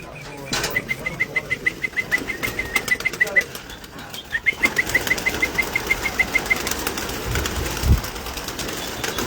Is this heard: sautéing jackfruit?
no